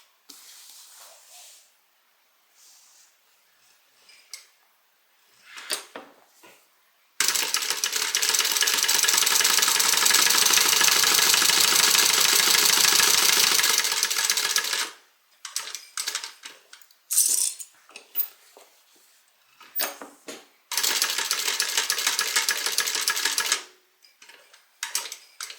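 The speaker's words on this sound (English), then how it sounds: "we're going to stitch around the outside of this rectangle." A sewing machine runs in two long, steady, loud stitching bursts around a fabric rectangle for a shoulder bag, separated by quiet handling noises and short clicks.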